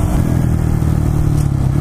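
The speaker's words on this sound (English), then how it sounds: "Get overtaken by a Grom!" A Honda MSX Grom 125 motorcycle overtakes with a steady, buzzing low engine drone held close and loud throughout, with no gaps.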